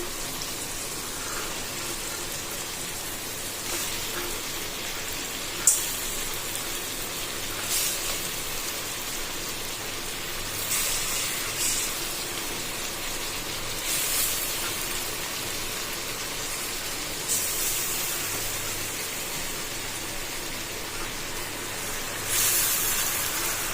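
Fish pieces laid into a hot pan for a Nellore-style fish curry, giving a continuous sizzle with a sharp spatter when they hit the oil and occasional surges of crackling, with no voices.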